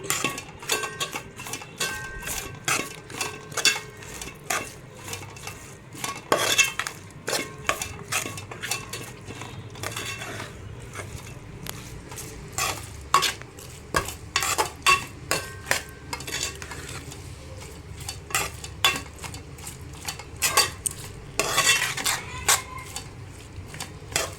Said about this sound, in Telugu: దాల్చిన చెక్క, లవంగాల పేస్ట్ ఇది. ఇది కలపాలి.